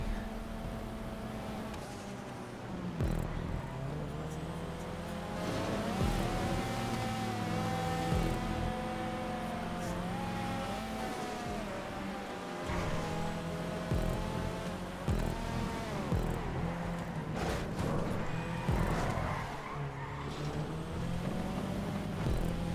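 Race cars in Grand Theft Auto 5 lapping a track, with a steady layered engine drone and shifting pitch sweeps as the cars accelerate and brake, continuous at moderate level throughout.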